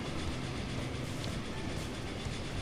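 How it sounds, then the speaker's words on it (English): A Class 52 locomotive hauling a fuel cargo train in Transport Fever 2, a steady loud rolling rumble with wheel clatter that holds evenly throughout, no voices. "One more cargo train, a fuel train, again pulled by class 52"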